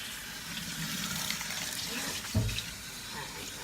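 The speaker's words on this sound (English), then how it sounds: "we're going to rinse really well" Running water from a tap rinsing conditioner out of hair, a soft, steady splashing hiss that stays fairly quiet, with one brief louder splash near the end.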